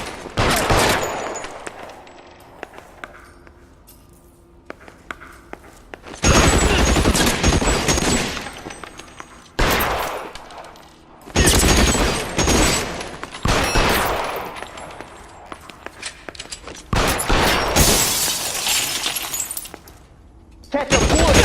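Gunfire in the L.A. Noire DLC case Reefer Madness: loud bursts of shots, glass shattering and breaking, coming in heavy volleys separated by quieter stretches.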